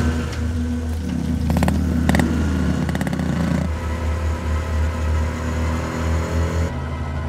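Motorbike carrying a girl who is being tailed, its engine droning steadily with repeated revs and rattly clatter, fairly close and continuous with no talking.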